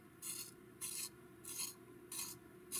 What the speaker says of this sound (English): I'm gonna sharpen this Kingfisher with the new sharpener